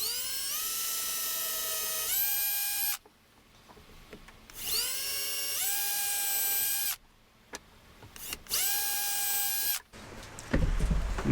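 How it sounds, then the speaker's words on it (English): A power drill bores through knife handle scales in three separate runs, each a high whine that spins up, then steps up in pitch as it cuts. Short quiet gaps fall between the runs, and a clunk comes at the end. "I'll just drill all the way through now."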